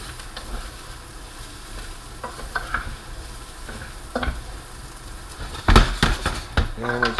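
Rice being stirred into a jambalaya pot, a soft sizzle under scraping and knocks of a spoon against the pot that come in scattered bursts, louder and busier toward the end.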